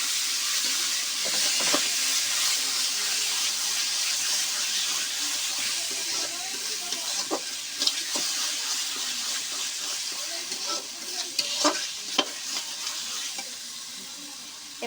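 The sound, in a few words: taro stems frying in a wok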